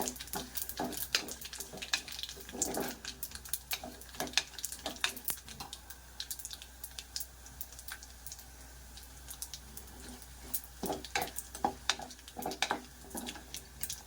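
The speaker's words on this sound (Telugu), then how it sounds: "చూసారా, ఆవాలు చిట్టపట్టబడుతున్నాయండి." Mustard seeds spluttering in hot oil for a cabbage and chana dal curry, giving a steady run of sharp crackles and pops, fairly faint but continuous throughout.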